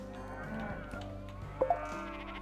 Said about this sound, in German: Und da kommen die Schafe.